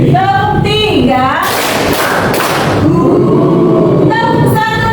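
A class of pupils answers a teacher's count with a loud group clap, several quick overlapping hits in one burst, with the teacher's voice before and after.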